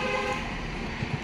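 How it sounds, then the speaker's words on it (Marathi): A car horn toots amid city traffic in South Bombay, a steady roadway hum with a couple of short low honks near the end. "अगेन पुन्हा ट्रॅफिक लागलं."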